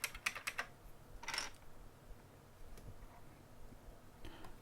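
A computer keyboard being tested key by key gives sharp, close clicks in short clusters, with gaps between each burst of taps.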